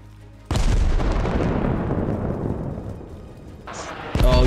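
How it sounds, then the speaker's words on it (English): Mortar and artillery fire in Arma Reforger, one sudden heavy boom that rolls out and decays over about three seconds, then a second sharp blast near the end, with a voice heard briefly. "Mortars now, artillery."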